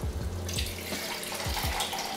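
Filtered water pours from a can into a pot for watermelon soup, a steady close splashing stream that runs the whole time with no talk.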